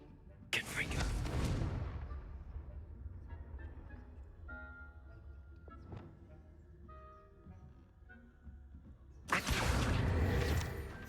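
A fiery Confringo spell blast in Hogwarts Legacy, a loud broadband burst near the start and another at the end, with quieter game ambience and faint tonal chimes between them.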